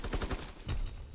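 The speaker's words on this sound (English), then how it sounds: "Who's shooting at me?" Rapid automatic gunfire in Call of Duty: WWII, a short burst of several quick cracks followed by a second volley, somewhat distant and faint.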